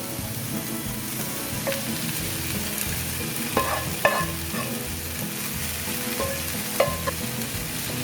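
Chicken mince and vegetables sizzle in a pan, a loud continuous frying hiss with occasional scraping clinks of a spoon stirring through the mixture.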